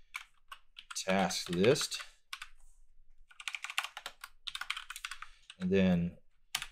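HTML code being typed on a computer keyboard, with quick bursts of soft key clicks falling between and under a person's speech.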